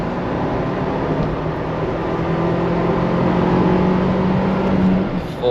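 Ford Bronco with the 2.3-liter four-cylinder EcoBoost engine pulling through the gears from inside the cabin, a steady droning engine note that rises gradually and briefly dips near the end.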